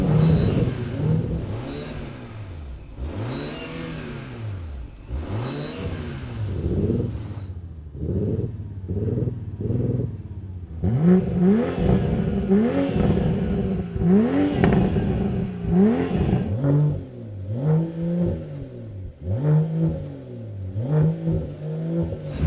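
Drag race between a BMW M340i, a diesel Audi S4, a Mercedes-AMG E53 and a Volvo S60 Polestar: repeated engine revs rise and fall with gear changes, several cars accelerating hard one after another, loud and close.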